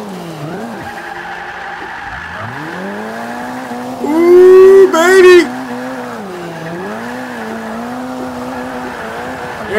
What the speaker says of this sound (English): Let's drift this shit this last corner right here.